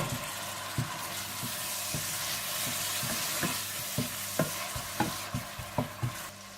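Tomatoes and green chillies frying in a pan for palak paneer, a steady sizzle with regular spoon scrapes and taps every half second or so, close and clear with nobody speaking.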